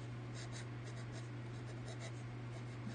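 A pen writes cursive on paper with soft, continuous scratching strokes, quiet and close, over a low steady background hum.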